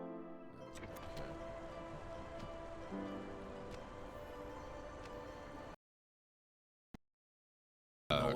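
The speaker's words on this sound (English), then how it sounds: "I'm kind of a sucker for rain in games. The sound is one of the most soothing sounds ever." Rain ambience from the video game The Planet Crafter, a steady close hiss of falling rain with faint tonal hum beneath, running continuously before cutting abruptly to silence, then a brief click and a loud return.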